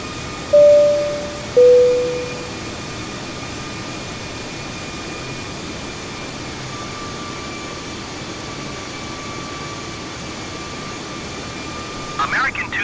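Inside an American Airlines Airbus A320 approaching landing, a steady cabin hum and engine drone fill the space, with two chime tones near the start and a brief clatter near the end.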